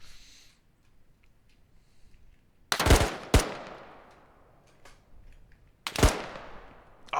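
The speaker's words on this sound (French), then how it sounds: "Il tire dans la fence." Video game gunfire aimed into a fence: sharp loud bursts of shots in two close clusters with short reverberant tails, separated by quiet gaps, with no voices over them.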